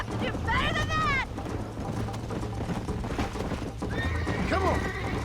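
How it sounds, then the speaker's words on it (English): Horse hooves clip-clop at a gallop in the Red Dead Redemption video game, with two loud neighs, one near the start and one near the end, mixed with in-game music and voices. "I think you chose the wrong horse, Miss McFarland."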